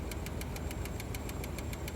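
A van engine idles steadily with a regular, light tapping that repeats about seven times a second, a ticking that could come from a lifter, running alone without talk.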